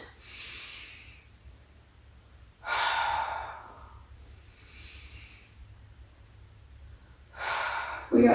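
Slow, deliberate breaths in and out during a shoulder mobility exercise, close and airy, with alternating inhales and forceful exhales at a steady pace and quiet pauses between them.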